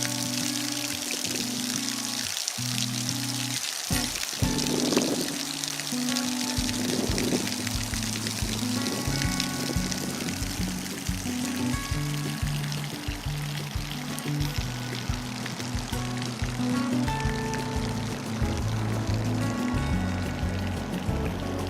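Clear water pours steadily over a dam at Blanco State Park, a continuous close rushing flow with a low rumble running throughout, with no talking heard.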